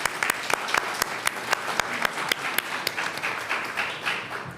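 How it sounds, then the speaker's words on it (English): Steady applause from a crowd, many hands clapping at once with a few sharper claps standing out, fairly close and continuous. "Let's give them a round of applause and thank them."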